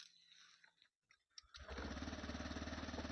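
A Honda Activa 6G scooter from 2020 starts after a brief silence, catching at once and settling into a steady, close, loud idle with a fast pulsing rhythm.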